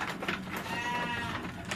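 A breeding ram bleats in a sheep pen on a farm raising composite and Merino sheep, a single drawn-out wavering call that carries clearly over the pen's background noise.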